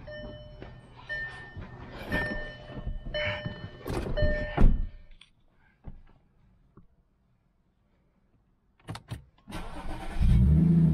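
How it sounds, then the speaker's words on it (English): An Audi B8 S4 engine cranks and catches, then settles into a loud, rough idle with revving bursts over the first five seconds, drops to near silence, and returns with a few short thumps and a steady rumble at the end. "start the engine and see how it sounds"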